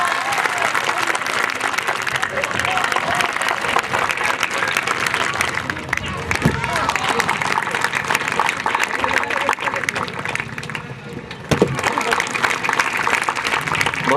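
A crowd at a school Republic Day program applauds continuously as students perform a stunt through a burning ring. A loud announcer speaks over the steady clapping, which briefly dips near the end before surging again.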